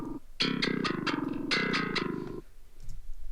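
Heavily distorted thall-style bass guitar with high drive, playing a run of punchy, evenly spaced chugged notes that ring close and loud for about two seconds, then stop.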